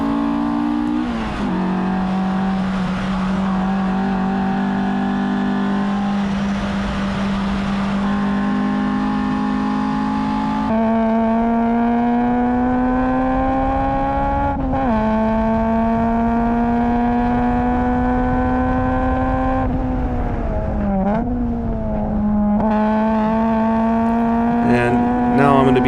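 Race car engines at Gingerman Raceway rev hard and continuously, with pitch rising and dropping through gear changes and throttle lifts. The sound is loud and close, like onboard sound, and it carries on for the whole stretch.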